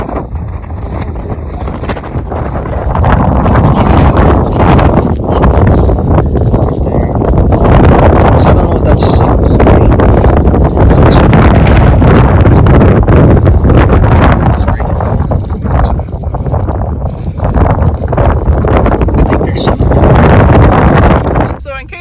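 Strong wind blows across open farm fields, buffeting the microphone in loud, rumbling gusts that swell and ease over time, with voices partly buried beneath it.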